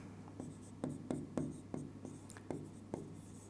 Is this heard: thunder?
no